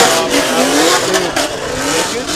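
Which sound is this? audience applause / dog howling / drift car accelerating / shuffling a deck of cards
drift car accelerating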